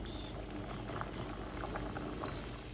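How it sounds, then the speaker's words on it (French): Water boiling in a pot on the stove before rice goes in for rice pudding, a steady close bubbling rumble with no talk. "Là j'ai mon eau qui bout, j'ajoute le riz et je laisse cuire 10 minutes."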